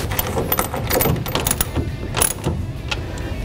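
A nut being tightened on the tension plate of a soft roll-up tonneau cover, heard as a run of quick, close metallic clicks and rattles with no talking.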